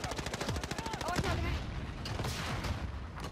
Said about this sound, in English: I'm gonna shoot my rocket in there.